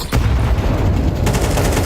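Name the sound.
grenade stack explosions and gunfire in the video game Counter-Strike 2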